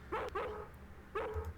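A dog barks in the 90s FMV game Harvester, two bursts of loud, close barking separated by a short pause.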